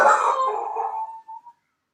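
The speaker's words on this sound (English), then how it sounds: "She's going to go bark." Frankie, a female pet dog, lets out one long, drawn-out bark that fades into a howl-like wail, close and fairly loud, then breaks off into a couple of trailing yelps.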